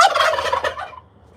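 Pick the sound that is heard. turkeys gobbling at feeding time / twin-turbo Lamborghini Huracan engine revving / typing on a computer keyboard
turkeys gobbling at feeding time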